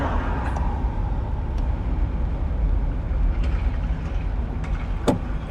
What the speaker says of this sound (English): Traffic's starting to pick up a bit now.